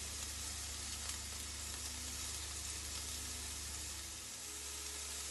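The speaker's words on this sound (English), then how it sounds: "I'm just going to pop the prawns in here to grill" Prawns sizzling steadily on a hot griddle, a dense, even hiss with faint crackle running throughout at close range, no voices.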